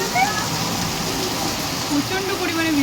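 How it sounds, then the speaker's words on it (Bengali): Heavy monsoon rain pours down outside in a dense, continuous hiss that stays loud and even throughout, with a voice faintly present over it. "এখানে বৃষ্টি জল পড়ছে, ভীষণ সুন্দর লাগছে দেখতে"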